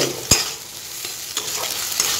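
Prawns fry in spice masala as a spoon stirs and scrapes the pan, a steady sizzle broken by a sharp clack near the start and softer scrapes afterward, close by and without speech.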